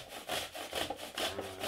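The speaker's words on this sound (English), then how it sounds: "So, this is my life now. Grating apples." Apples rubbed over the coarse side of a large hand grater, a steady back-and-forth scraping in quick repeated strokes, close and fairly loud with no talking.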